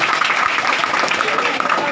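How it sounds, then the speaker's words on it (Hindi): A crowd applauds a teacher at a speech event, a dense, steady wash of many hands clapping that holds evenly from start to finish. "तेज सर को एक ताली प्रणाम करता"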